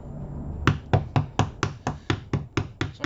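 A copper rivet is hammered over against a rove, producing about a dozen close, loud, evenly spaced metallic hammer blows at a quick, steady rhythm.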